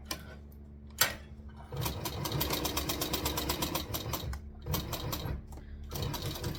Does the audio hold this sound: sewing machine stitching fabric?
yes